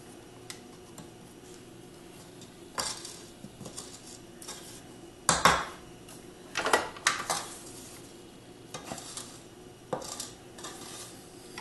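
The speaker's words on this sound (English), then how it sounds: "Now I will scrape the bowl" Spatula scraping the sides of a mixing bowl of pound cake batter with half the dry ingredients added, several brief scrapes and taps against the bowl, close and fairly quiet over a steady kitchen hum.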